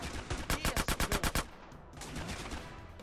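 Rapid burst of automatic gunfire in GTA San Andreas Definitive Edition, about eight evenly spaced loud shots in quick succession, then fading into quieter game ambience.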